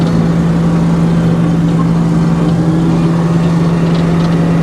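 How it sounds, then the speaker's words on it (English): A sawmill engine runs loud and close with a steady, droning hum and a strong low tone, holding a constant pace with no voices. "ZZ's going to get her throttled up here"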